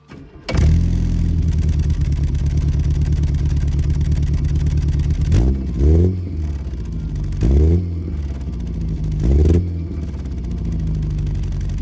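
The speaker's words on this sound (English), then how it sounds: "Here's a modified one. This particular one's a Maniflow exhaust." A car engine with a modified Maniflow RC40 exhaust idles loudly, then barks through three short, sharp revs spaced a couple of seconds apart, settling back to a rumbling idle.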